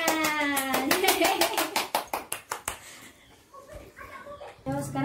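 A class of fourth-grade primary schoolchildren clapping hands in a rhythmic burst of sharp claps that speeds up and fades, with a teacher's voice and children speaking around it.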